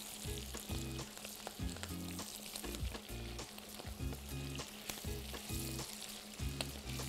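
Food fries in a small pan, being turned over, with a soft, continuous sizzle and repeated low bumping knocks from the pan at an uneven rhythm, heard close with no speech.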